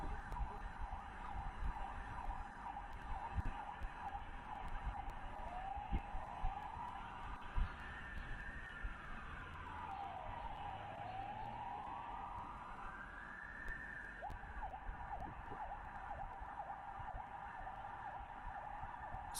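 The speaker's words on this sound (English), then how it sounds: "So the sirens you guys are hearing are coming out of Kiev." A wailing siren in Kyiv during the Russian invasion rises and falls in slow sweeps over a steady rumble of distant city noise, with no voices.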